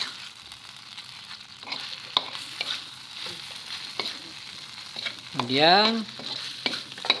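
Grated ingredients for Padang-style satay sizzle and get stirred in a hot pan, with steady frying hiss and a few scraping clatters, a brief whistle-like sweep partway through, and one short spoken word.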